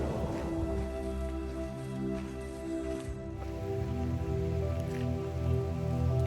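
Steady rain falls outdoors in Gudauri, Georgia, a continuous even patter holding at moderate loudness from start to end, with no voices over it.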